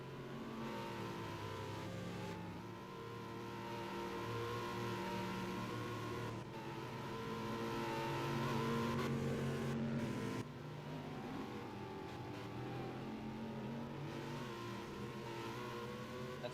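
Race cars accelerate down the front straight of a road course, a sustained engine drone with shifting tones and gear changes that swells and fades as cars pass, loud and continuous with no talk.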